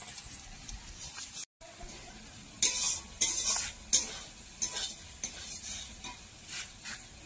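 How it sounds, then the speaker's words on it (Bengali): Potatoes stirred in a kadai (wok) in an Indian village kitchen, a soft steady sizzle with several scraping, clinking stirs and a brief gap near the start. "এই যে কড়াইতে আমি আলু নাড়ছি"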